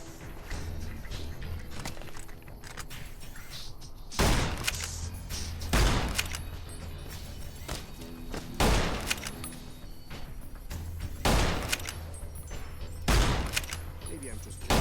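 Gunfire in Fallout New Vegas during a prison riot, sharp shots cracking out every couple of seconds over a low ambient hum, with a voice talking in between.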